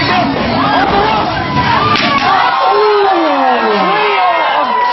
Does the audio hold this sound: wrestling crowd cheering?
yes